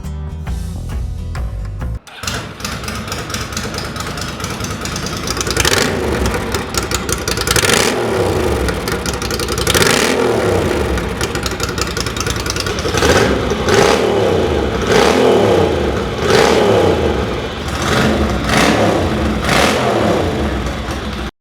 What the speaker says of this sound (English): So what we'll do now is take it outside and see what she sounds like.